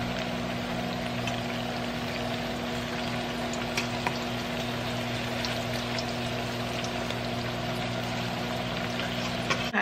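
Plantains fry in hot oil in a pot, giving a steady, even sizzle with faint pops that runs unbroken throughout, alongside a constant low hum in the background.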